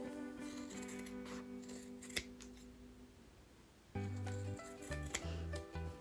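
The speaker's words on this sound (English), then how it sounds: "This cutting is just to avoid the bulk in the edges, so it doesn't look bad." Scissors snip the corners of a fabric zipper pouch, a string of short crisp cuts clustered together close to the listener, with a louder burst of snipping near the end and no talking.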